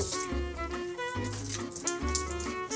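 Tap water runs steadily into a sink to wet cheesecloth before straining homemade ricotta, a soft continuous splashing stream heard close with no talk over it.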